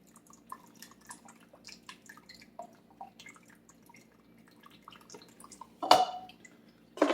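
Liquid drips from cooked shrimp shells in scattered, faint, irregular drops over a quiet background, ending in a couple of louder splashes near the close.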